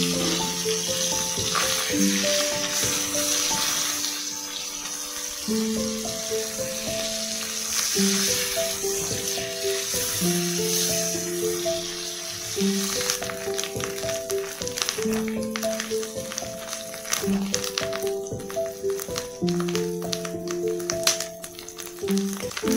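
Fish roe frying in hot mustard oil sizzles steadily under a looping background music track, the crackle staying constant and moderately close; nobody speaks.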